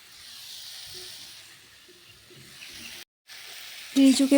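Potato and pointed gourd curry frying in a home pan gives a soft, steady hiss, with faint clinks and a louder bump near the end.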